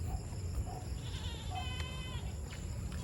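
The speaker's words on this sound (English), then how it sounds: "And look, there's a goat over there." Goats out in the countryside bleat in short, fairly distant calls over a steady outdoor background of insects and wind, with no talk.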